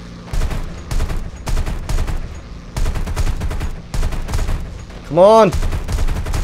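Rapid bursts of aircraft gunfire in the War Thunder combat game, fired in repeated loud volleys with short gaps between them, then a rising engine whine as the plane dives, with a brief spoken word.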